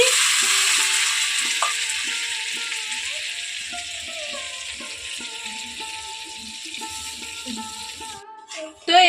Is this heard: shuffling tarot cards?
no